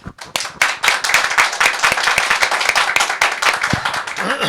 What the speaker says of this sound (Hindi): एक अच्छी ताली बजाकर आइए हम शुरू करें